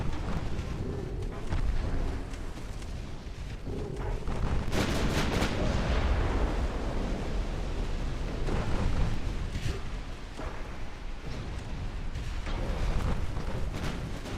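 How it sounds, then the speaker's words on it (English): Warship secondary guns fire in a naval battle in Ultimate Admiral: Dreadnoughts, a Japanese Empire fleet of 1890, as loud dense booms and rumbling salvos that roll on continuously, with a burst of sharp blasts near the middle. "keep firing those secondaries"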